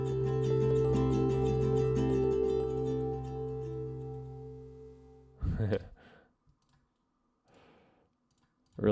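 Electric piano and ukuleles play together in a gentle sustained chord passage that fades away, followed by a few brief clicks and handling noises.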